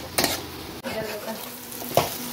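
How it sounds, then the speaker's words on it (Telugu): Chicken legs frying in hot oil give a steady sizzle with stirring clatter, loud bursts near the start and end, and a faint voice in the background. "ఈ విధంగా ఫ్రై చేసుకోండి చికెన్ లెగ్స్"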